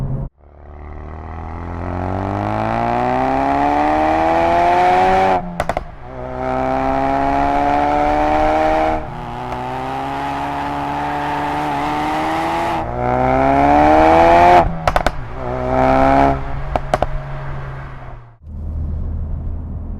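A Ford Focus RS hatchback, 350 hp with all-wheel drive, pulls hard through the gears, its engine note climbing in long loud sweeps broken by quick shift dips, with a steady low rumble beneath and no talk.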